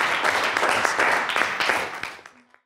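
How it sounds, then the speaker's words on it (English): Audience applause at a Stanford talk, a dense wash of many hands clapping steadily at close range, then thinning out and fading away over the final half second. "So I want to give Dalton a round of applause."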